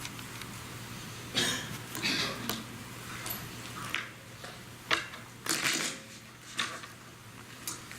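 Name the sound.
shuffling a deck of playing cards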